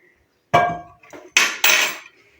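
Melted ghee is worked into flour for samosa dough with a utensil that clanks and scrapes against a bowl in four or five short, loud, close knocks separated by brief pauses.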